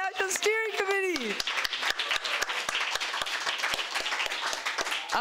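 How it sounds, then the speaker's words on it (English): A convention crowd of the Uhuru Solidarity Movement applauds its National Steering Committee; a brief voice whoops or cheers at the start, then brisk, dense clapping with distinct sharp claps carries on steadily. "another round of applause for our National Steering Committee"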